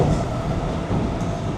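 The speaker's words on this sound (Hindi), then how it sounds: "बड़ी लंबी लोकल ट्रेन है यार" A long local train rumbles past up close, a steady, loud roar of wheels and carriages that holds without a break. No voices.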